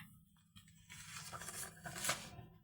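A paper surprise packet with My Little Pony contents is torn open close by, a short dry rip building to a louder crinkling tear at the end.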